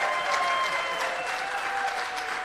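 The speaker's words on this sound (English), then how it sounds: "a big hand of applause." A crowd at an awards gala claps for a few seconds, a loud, dense, even round of applause that fills the room without any talking over it.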